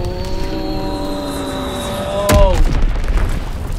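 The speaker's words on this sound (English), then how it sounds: "Recon airborne, searching for targets." A recon aircraft flying over in Call of Duty WWII, its engine drone holding steady and then sweeping down in pitch as it passes, followed by a sharp booming impact and a rumbling tail.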